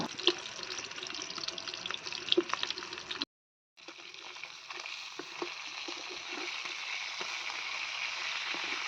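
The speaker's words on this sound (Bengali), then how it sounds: "কাঁকরোল অলরেডি ভাজতে শুরু করে দিয়েছি" Spiny gourd slices fry in a pan with a bright, dense sizzle, briefly cut off to silence and then resuming steadily with small pops and crackles.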